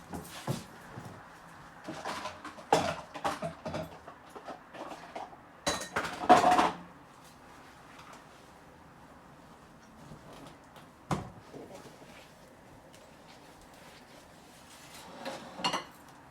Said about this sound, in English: I need to take a bowl out.